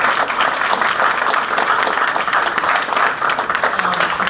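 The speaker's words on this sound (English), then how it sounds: "Another applause for Mr. James Evans." Audience applause for a performer at a college creative writing colloquium, a steady dense wash of many hands clapping at close range throughout, with no speech over it.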